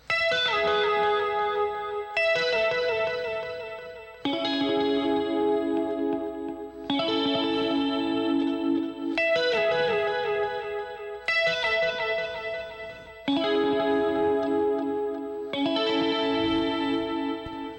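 An electric guitar plays a lead line of sustained, shimmering notes in repeating phrases, thickened by a swirling chorus effect and a touch of distortion.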